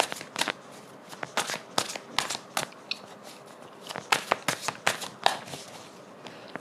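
Tarot cards are shuffled close up in a quiet room, with quick, irregular riffling bursts and soft slaps repeating for several seconds.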